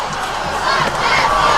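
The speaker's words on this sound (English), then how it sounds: "Their crowd's over there, their student section." A high school football game crowd, with the student section cheering and shouting together as a loud, steady roar that fills the whole moment without a break.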